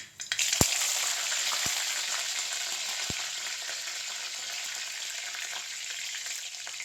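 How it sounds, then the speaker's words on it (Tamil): Mustard seeds sputter in hot oil in a kadai for a mutton thokku, a steady close frying hiss with a few sharp crackling pops near the start. "எண்ணெய் சூடானோட கடுகு போட்டுக்கணும் கடுகு பொறிக்கணும்"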